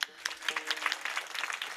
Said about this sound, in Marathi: जोरदार टाळ्या महाराजांकरता एकदा.